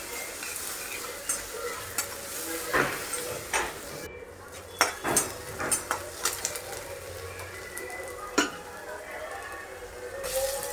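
Tomatoes being stirred into sautéed onion, ginger and garlic in a pan, with a low steady sizzle under repeated scraping and clinks of a spoon against the metal.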